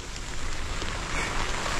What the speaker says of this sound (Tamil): கீழே தெரியும்ல தூரல் இன்னும் விழுந்துக்கிட்டே இருக்குது